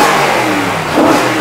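Loud, close engine revving from an Audi RS4 B8 or RS6 C7, a dense throaty roar that swells briefly as the throttle is blipped, with no voices over it.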